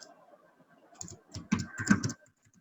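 Keys clatter on a computer keyboard in short bursts, a few soft taps followed by two denser flurries of typing, close and fairly quiet, with no talk.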